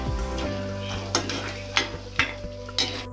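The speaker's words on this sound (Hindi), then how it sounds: "घी में हमने किशमिश डाल दी है, अब इसको भी हमको हल्का सा ही भूनना है।" Raisins fry lightly in ghee, a soft continuous sizzle broken by four or five distinct clinks of a spoon stirring against the pan at a steady pace.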